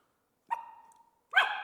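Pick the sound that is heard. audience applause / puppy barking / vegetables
puppy barking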